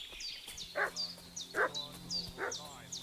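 A dog in the video game Kingdom Come Deliverance 2 barks three times at a steady rhythm, moderately close, over quiet background music with high chirping tones.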